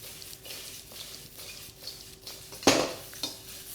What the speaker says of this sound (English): keep that stir fry going